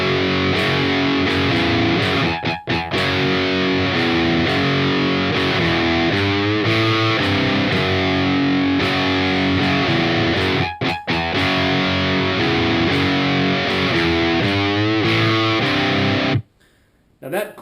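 Electric guitar through distortion plays chords and ringing harmonics from a song, loud and sustained with brief pauses between strums, a sudden cutoff near the end.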